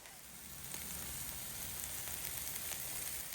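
Garlic and ginger sizzle steadily on a hot Blackstone griddle, a continuous moderate frying hiss with faint crackles throughout, no voices.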